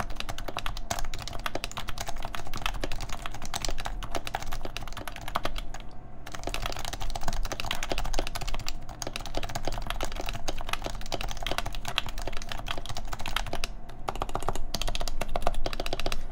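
Brisk, continuous typing on a Happy Hacking Keyboard Pro 2 in its stock plastic case, dense overlapping keystrokes clattering close up with no voices.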